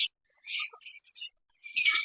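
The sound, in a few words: lovebirds, budgerigars and cockatiels chirping in breeding colony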